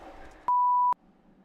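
A single steady censor beep tone, loud and clean, cuts in for about half a second over quiet background speech from someone playing a game.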